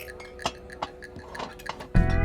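A few light glass clinks spaced out over a couple of seconds, then a louder burst of noise at the end.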